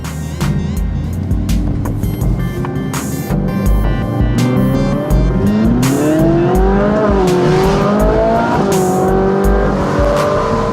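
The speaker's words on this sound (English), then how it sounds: "This is my commuter car, so I drive it every day to work." A daily-driven commuter car runs steadily with engine drone rising and falling as it accelerates, tires and road noise beneath, no talking.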